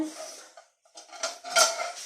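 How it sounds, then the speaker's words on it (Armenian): Metal cookware clanks and scrapes close by, a few sharp knocks as a frying pan is set down and shifted on a gas stove. "գազօջախին դնում եմ թավան, որ տաքանա"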